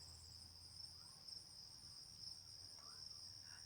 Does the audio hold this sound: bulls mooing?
no